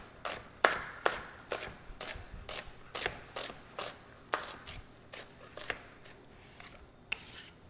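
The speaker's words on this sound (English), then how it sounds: "We're going to take our onion, again, finely chopped, and it's great." A knife finely chops an onion on a cutting board in a steady series of crisp, evenly spaced taps, about two per second, close and moderately quiet with no voices.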